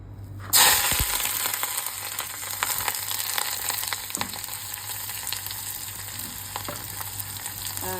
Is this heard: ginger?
yes